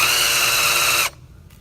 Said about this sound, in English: So we're now drilling for all the hinges, hinge screws.